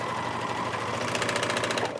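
A serger runs continuously, sewing the fabric of a shift dress around a corner, a fast buzzing mechanical stitch heard close up that slows slightly at the end.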